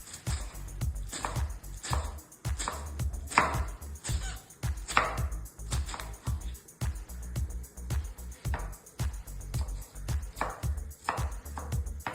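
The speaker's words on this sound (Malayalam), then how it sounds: "ചെറിയ ചെറിയ മണിയാക്കിയിട്ട് മുറിക്കാം" A knife chops steadily through firm raw plantain on a board, with sharp, evenly paced strikes, close and clear with no talking.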